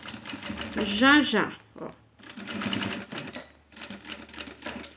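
Sewing machine stitching a pocket with a flap, running in a steady rapid mechanical buzz over several seconds with a short pause, close by, while someone talks over it at the start.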